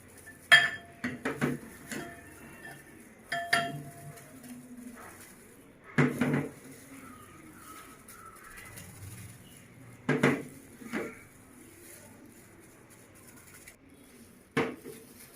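Utensils clink and tap against a bowl in scattered bursts while chicken tikka masala is mixed, each sharp knock separated by quiet pauses.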